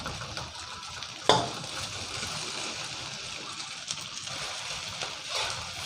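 Rice with egg and Chinese sausage stir-fried in a hot pan, a continuous close sizzle with scraping and tossing, one sharp clatter of the utensil early on and smaller knocks later.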